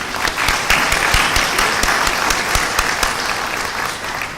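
Applause from the audience at an online mid-year meetup, a brisk crowd clapping with sharp individual claps over a dense wash, steady and then slowly tapering off.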